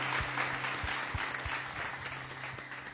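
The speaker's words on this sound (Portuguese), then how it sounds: "Eu convido você a dar um louvor de palmas bem forte a esse Deus maravilhoso" Church congregation clapping in praise during a Portuguese-language worship service, a steady dense patter of many hands with regular low thumps from a rhythmic beat underneath, lasting the full few seconds.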